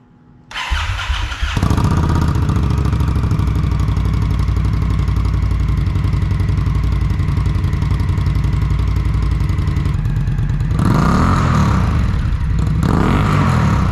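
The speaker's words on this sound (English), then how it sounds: "we are about 3 feet behind the bike right now, and this is a cold start" An Indian Scout Rogue motorcycle with stock exhaust cold-starts about three feet behind the bike: a brief starter whir, then a loud, steady, throbbing idle, followed by two sharp revs near the end.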